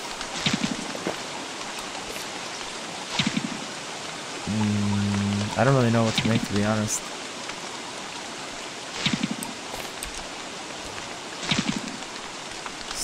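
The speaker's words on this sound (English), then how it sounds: "Stupid rain." Rain in the video game Don't Starve hisses as a steady, even wash throughout, with a short tonal game jingle in the middle and someone talking over it.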